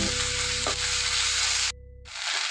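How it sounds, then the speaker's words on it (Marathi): A ginger, garlic and coriander paste fries in hot oil for a chicken curry, giving a loud continuous sizzle with a brief stir and a short drop in the hiss near the end. "हे वाटण तेलामध्ये 2-3 मिनिट चांगलं आपल्याला मिक्स करून घ्यायचं।"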